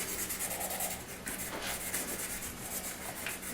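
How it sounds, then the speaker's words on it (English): A metal furnace part is sanded by hand with a continuous, close, rasping rub that keeps an even level throughout, with no talking. "giving it a nice little sand"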